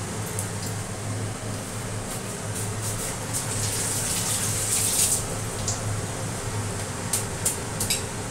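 Panch phoron and ginger sizzling in hot oil in a pan, a steady loud frying hiss with scattered sharp crackles throughout and no voices.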